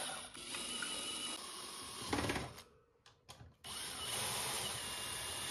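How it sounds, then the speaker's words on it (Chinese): A power drill drives screws into a homemade platform inside a wire pet cage, a steady whirring buzz near and loud that drops out briefly midway before resuming. "按对应位置拧上螺丝就可以固定了"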